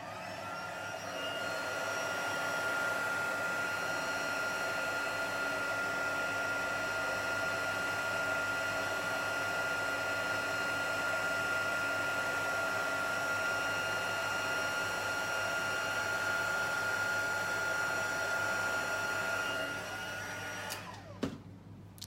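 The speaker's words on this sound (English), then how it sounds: "let's bring the heat tool in. And we'll just quickly melt that powder." A heat tool used in crafting to melt embossing powder blows close by with a steady, loud whirring hiss that holds unchanged for about twenty seconds, then cuts off with a click.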